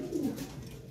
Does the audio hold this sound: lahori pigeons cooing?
yes